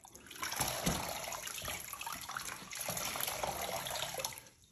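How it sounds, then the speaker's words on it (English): Wet cloth wrung out over a bucket of water, a continuous close splashing and trickling of water pouring back into the bucket for several seconds, fading at the end. "We'll just wrung the cloth so it still contains lots of water"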